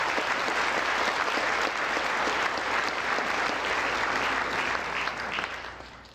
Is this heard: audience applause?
yes